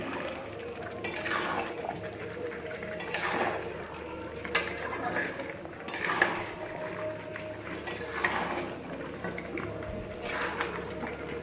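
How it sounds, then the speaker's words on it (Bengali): Chicken is being sautéed and stirred in a pan for a long, slow cook, with a utensil scraping the pan in repeated strokes every couple of seconds over a low kitchen hum. "কষানো হচ্ছে এখন, আমার এখনও 10 মিনিটের মতো কষাবো বন্ধুরা।"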